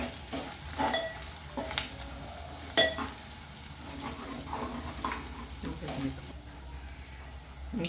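Onions fry with turmeric in a pan for chicken gravy, a soft continuous sizzle broken by stirring scrapes and a few light clicks, heard close and fairly quiet throughout.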